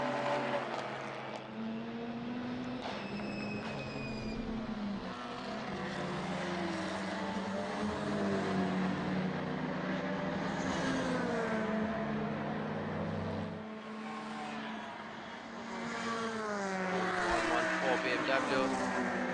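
Honda, BMW and Seat touring race cars in a two-hour endurance race, engines droning and shifting pitch continuously as they pass and jostle for position, with a commentator talking throughout.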